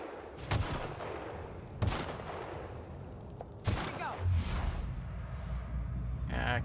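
Gunfire in the sci-fi shooter game Outer Worlds: several loud, sharp shots at irregular intervals over a steady bed of game noise, with a short whooshing sweep near the end.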